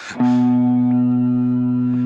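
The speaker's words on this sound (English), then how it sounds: "Then we come into the reverb, which is quite simple, but it's a shimmer." A plucked guitar chord through a BOSS GT-1000 shimmer reverb rings out and sustains as a steady, shimmering drone with a bright reverberant halo, loud and close.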